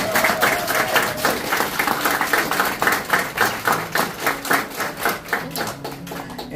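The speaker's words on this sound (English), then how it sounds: "So let's give them one more round of applause." An audience at the Living Water School 2024 graduation ceremony applauds with dense, steady clapping that pulses in waves and carries on for several seconds, a little cheering mixed in.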